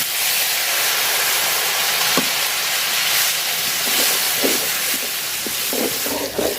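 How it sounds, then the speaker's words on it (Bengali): Ground spice paste frying in hot oil left over from frying potatoes, a steady close hiss with a few faint clinks through the clip and no talk. "তো আলু ভাজার তেলে আমি বাটা মশলাটা দিয়ে দিলাম।"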